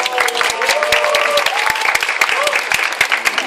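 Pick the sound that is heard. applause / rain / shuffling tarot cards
applause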